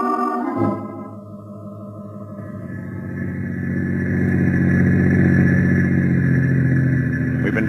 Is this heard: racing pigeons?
no